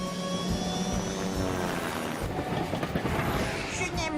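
The Wallaby 1 aircraft takes off in the children's cartoon Fireman Sam, a loud, steady engine drone with rising whine, close and continuous, with some talk mixed in.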